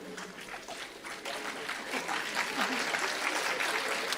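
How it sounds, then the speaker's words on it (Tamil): A student audience at a motivational talk claps together, and the dense applause swells and grows louder toward the end. "மனசாட்சியுடையவர்கள் கைத்தட்டுகிறீர்கள்."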